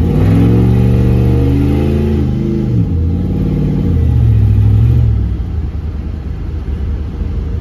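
A turbocharged LS-engined Caravan revs loudly from inside the cabin, its engine note sweeping up and down through several gear pulls before settling into a steadier, slightly quieter drone.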